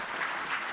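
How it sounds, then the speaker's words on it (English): An audience at a health programme review meeting applauds, a dense steady burst of clapping from many hands filling the short moment. "And that clapping was for you."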